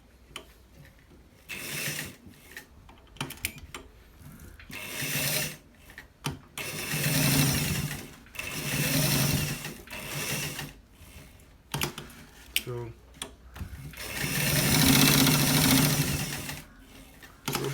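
A sewing machine stitches a front pocket in repeated bursts of close, loud mechanical whirring, each run lasting a few seconds and separated by short pauses and handling clicks.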